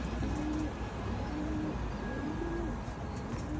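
A smoky blue pied racing pigeon coos softly in a few short, low repeated phrases over steady background noise.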